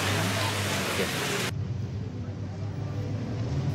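Heavy rain pours down at a burial for flash flood victims in Pandai Sike, a dense steady hiss that drops abruptly to a quieter, duller wash of rainfall partway through, continuous and close.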